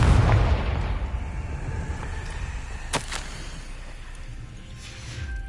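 A Confringo spell explosion in Hogwarts Legacy bursts loudly at the start and fades into a lingering rumble, followed by a sharp crack and softer magical whooshes later.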